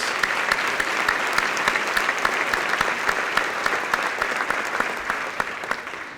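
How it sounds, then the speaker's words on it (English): A crowd at the 2021 Oro Valley State of the Town mayoral address claps loudly and steadily in a resort hall, a dense sustained burst of applause with sharp individual claps standing out, fading slightly at the end. "Please join me in a round of applause."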